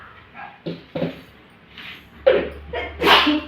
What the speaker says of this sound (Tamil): எப்படி தும்மல் வருது பாருங்க